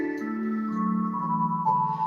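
A pipe organ flute 2 1/3 stop drawn together with a 16-foot stop holds sustained chords, a bright nasal twelfth-pitched tone over a deep foundation, moving slowly between notes, close and even.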